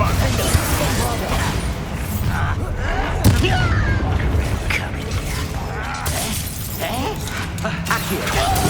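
A Bombarda explosion spell goes off during Hogwarts Legacy combat, a loud burst rising out of dense, continuous battle noise with voices in the mix.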